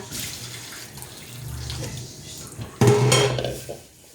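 A container is rinsed under a running kitchen tap while ground beef cooks nearby: a brief clatter of dishes and cutlery, then a louder rush of water splashing into the sink, close by and fading at the end.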